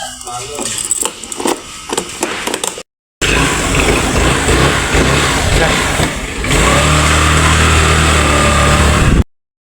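A motorbike carrying two riders runs steadily at close range, its engine drone and wind rush filling the clip after a short burst of clattering sounds at the start.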